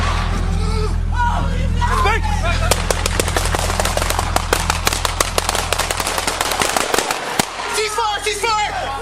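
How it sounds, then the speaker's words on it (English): Rapid bursts of gunfire crackle through a police confrontation with a kidnapping suspect, dense repeated shots close and loud, with shouting voices mixed in. "Shots fired, shots fired, shots fired"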